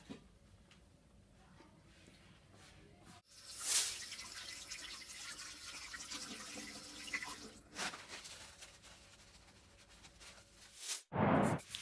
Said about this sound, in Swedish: Man kan spola vatten på det så lossar det lättare.